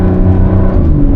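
A Porsche 992.2 Turbo S accelerates at full throttle in a steady, loud, low engine rumble and whir heard from inside the car, with no talking.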